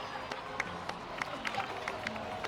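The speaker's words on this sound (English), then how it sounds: "please give another round of applause for them" Faint crowd applause in the video game Genshin Impact, a soft background wash of clapping and murmur with a few sharper claps standing out at irregular intervals.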